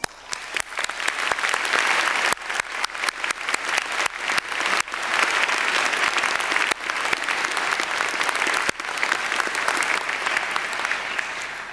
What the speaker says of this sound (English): You are our most honored guests, and you deserve our applause.